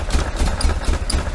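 A 1973 VW Super Beetle engine idles as it runs out of gas, a loud, close, low rumble with uneven pulsing chugs.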